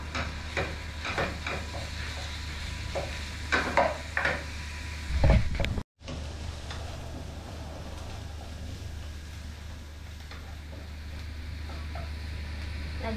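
Minced meat sizzling and being stirred in a pan, with scraping and clinks of a utensil over a steady low hum, then a sudden cut and a quieter steady sizzle.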